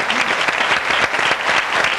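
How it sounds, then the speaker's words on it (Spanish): Studio audience at a televised interview breaks into dense, even applause, a steady wash of many hands clapping close and loud for about two seconds. "Un aplauso, Julián."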